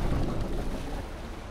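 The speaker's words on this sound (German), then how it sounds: "Das Boot läuft." A boat engine in the DayZ video game runs as a steady, dense low rumble with a wash of broadband noise, even and continuous throughout, with no talking over it.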